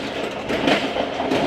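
The Thal Express runs along mountain tracks with a close, steady rumble and faint rhythmic wheel clatter, continuous and loud for the whole short stretch.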